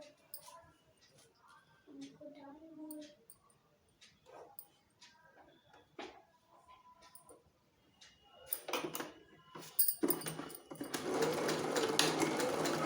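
A sewing machine stitches a neck strip onto a baby frock in short bursts, with clicks and handling noises between runs, ending in a louder, sustained whirring stretch.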